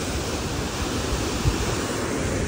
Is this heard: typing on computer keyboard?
no